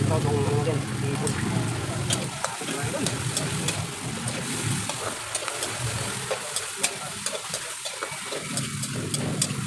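Shrimp sauté in a pan for ginataang kalabasa with a steady sizzle and the scrape of stirring, while someone talks over the cooking the whole time.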